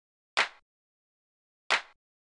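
A soft, organic-sounding clap sample, used as one layer of a layered snare in a drum-production setup, strikes twice alone with a quick decay and a long gap between hits.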